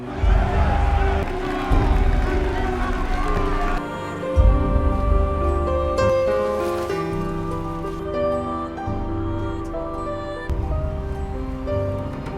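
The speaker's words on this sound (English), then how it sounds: "He is surrounded by a cheering crowd," A crowd cheers after a medieval duel in the film The Last Duel, a dense roar of many voices blended with swelling orchestral music.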